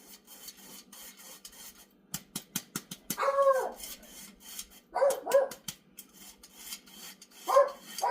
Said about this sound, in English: My little dog thinks there's somebody at the door.